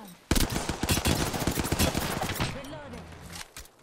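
Rapid, loud bursts of automatic gunfire in Apex Legends rattle close by for about two seconds, then thin out into scattered shots while a voice briefly murmurs underneath.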